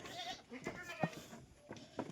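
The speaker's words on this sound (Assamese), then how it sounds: "ইয়াত ভালেখিনি সংখ্যক ছাগলী আছে" Black Bengal F1 and Sirohi goats on a farm give a few short, nasal bleats spread across the moment, with quieter farmyard rustle between the calls.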